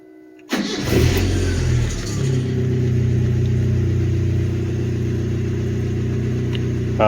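A car engine with a custom external alternator setup cranks and starts with a sudden roar, revs briefly, then settles into a steady close idle.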